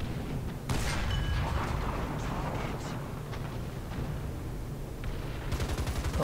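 Panzer 35(t) German light tank firing in War Thunder, loud percussive bursts of gunfire with sharp onsets early and near the end, over a constant rumbling engine bed.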